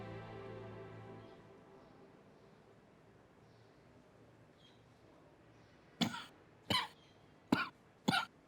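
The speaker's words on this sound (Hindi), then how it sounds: "आपकी खांसी अभी तक ठीक नहीं हुई?" Four sharp coughs come in quick succession near the end, loud and close, after several seconds of quiet background hum.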